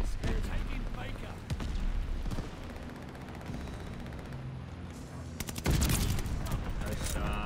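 Dense automatic rifle fire from an assault rifle in the shooter game Call of Duty: Vanguard, with rapid bursts nearly throughout and a louder, heavier volley near the end, mixed with game effects.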